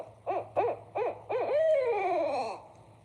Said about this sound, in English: There's owls surrounding me. Look at this guy. There's owls surrounding me. I think it's a barred owl.